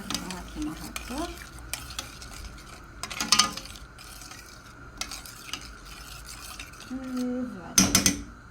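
A utensil stirs liquid cream in a pan, with soft scraping and clinks of metal against the pan at irregular moments and a faint simmer beneath, with brief speech.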